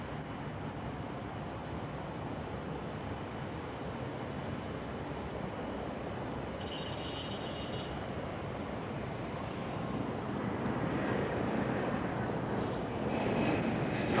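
An Air Canada Boeing 767 makes a flypast at Heathrow, its engine roar steady and fairly distant, building slightly toward the end.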